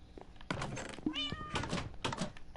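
A house cat meows several times in drawn-out, wavering cries, fairly close. Dull thunks and bumps are mixed in.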